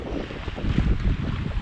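A sailboat runs with the wind from astern at about 10 knots off Fiji, a steady rush of wind buffeting the microphone over a soft wash of water, with no talk.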